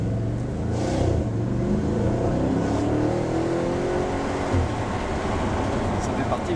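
Audi RS5 with a sport exhaust revs hard, its engine drone rising and holding loud and near, with people talking over it inside the car.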